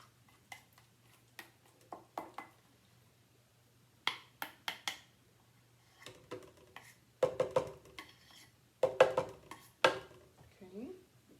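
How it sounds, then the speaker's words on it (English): A spoon scrapes and taps against a container in short bursts of clinks, with a faint steady hum underneath. "I'm going to put my yogurt into my blender"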